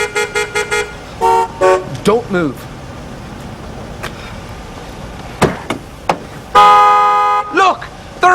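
A car horn beeps in repeated short toots, then a long sustained blast and more honks, loud and close on a London street while people talk in between.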